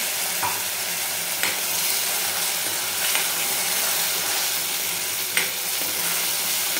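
Water hits a hot pan of sizzling shev bhaji curry, producing a steady, loud, hissing sizzle with a few soft clinks of stirring scattered through it, and nobody talks.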